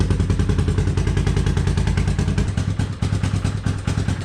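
A 1987 Honda TRX 350D ATV engine runs close by just after starting, a loud fast pulsing chug with a steady rhythm and rattly clatter and a slight dip near the end.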